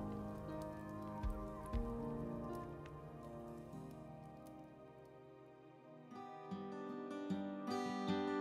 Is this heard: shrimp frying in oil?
no